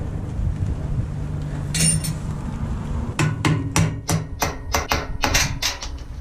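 Metallic hammer strikes on a vehicle winch ring out close by: one early blow, then a quick irregular series of sharp clanks, each with a short bright ring.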